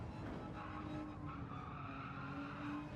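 Tires squeal and scrub as a race car brakes hard into a corner at the Nurburgring in a racing game, a continuous skidding hiss over the engine, steady and fairly quiet throughout.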